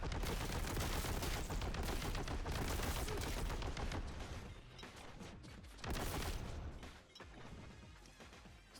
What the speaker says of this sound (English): For example, heavy bolter still does heavy bolter things.